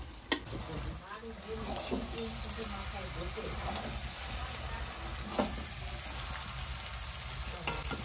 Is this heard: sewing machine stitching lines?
no